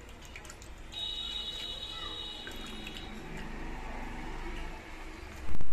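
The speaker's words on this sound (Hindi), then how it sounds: "अब इसे निचोड़ लेंगे पानी से।" Washed bitter gourd (karela) is squeezed by hand in a kitchen, and water drips and trickles steadily from it for several seconds, close and moderately quiet, ending with a louder brief splash.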